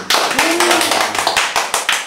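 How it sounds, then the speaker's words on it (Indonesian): A crowd at a DJ event in Gorontalo claps in loud, close bursts that fall into an even beat, with a faint voice or tone humming underneath. "Tepuk tangan dulu"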